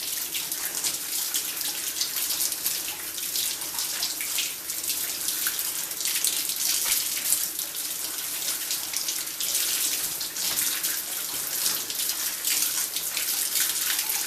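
Cold tap water runs steadily into a sink while butter is kneaded and rinsed under the stream, a continuous bright splashing hiss with small fluctuations and no talking.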